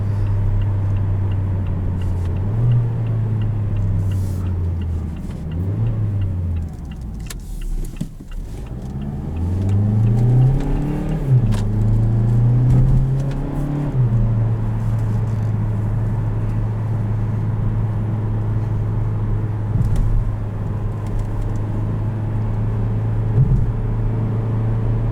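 A 2017 Mazda CX-3 Touring with a 6-speed torque-converter automatic in manual mode, its engine holding steady revs as a continuous low drone that rises and dips briefly before settling, with no talking.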